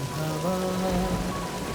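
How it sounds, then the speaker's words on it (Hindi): Heavy rain pours in a steady, dense wash throughout, with a faint tonal hum running underneath. "बारिश तो बहुत तेज होगी।"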